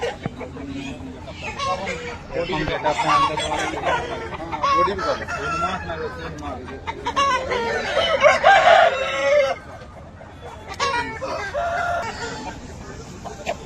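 A red Aseel fighter rooster crows loudly and close by, with drawn-out calls and clucking, while a person talks intermittently around the calls.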